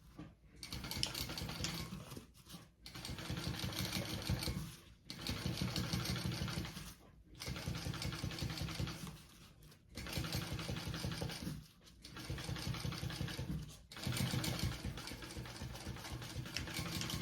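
A sewing machine top stitches through a sling backpack's lining and seam allowance, running in steady whirring bursts of a few seconds each, separated by short pauses.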